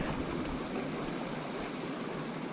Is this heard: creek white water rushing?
yes